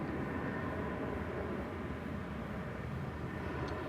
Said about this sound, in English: 737 going to Austin.